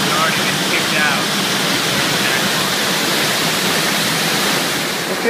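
Water rushing loudly and steadily through a granular media filter during backwash, a dense, unbroken roar like a waterfall that stays constant throughout.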